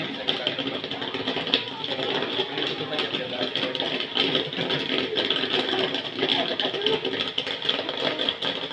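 A popcorn-making mixer machine running with a continuous motorized whir and rattle, close and steady throughout, with people talking over it.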